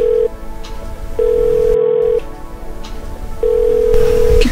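A phone call ringing out unanswered, a loud, close electronic ringback tone repeating in long steady pulses separated by silent gaps over a faint background hum.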